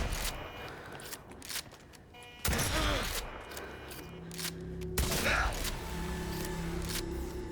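Pistol shots ring out in the video game Cyberpunk, two sharp, loud bursts a few seconds apart with brief ringing tails, set against quieter game ambience.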